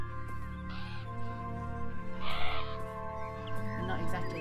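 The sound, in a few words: crows cawing in the video game Beyond Eyes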